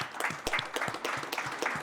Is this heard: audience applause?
yes